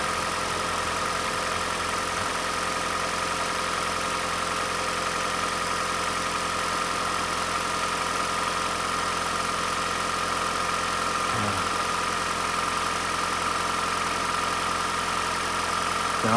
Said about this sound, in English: Started the engine up.